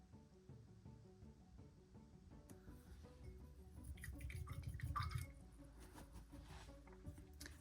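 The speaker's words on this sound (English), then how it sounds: "Wipe and wash that brush off." A paint brush is washed in water, giving faint, close swishing and dripping with a few soft splashes that build in the middle and then settle, and no one speaks.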